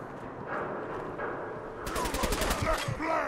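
Rapid automatic gunfire in the video game Fallout 4, a burst of quick repeated shots rising near the end, moderately loud under someone talking.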